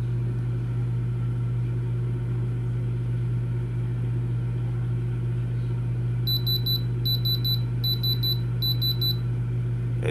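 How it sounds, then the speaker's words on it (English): A diamond tester checks a lab-made diamond set in an iced-out men's ring, giving four quick bursts of high electronic beeps over a steady low hum. "I do have a diamond tester just to prove that it's a real lab-made diamond"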